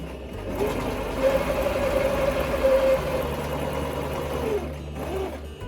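A sewing machine runs steadily, stitching satin bonnet pieces together with a one-centimeter seam allowance, its motor whirring close and continuous for several seconds with a brief pause near the end.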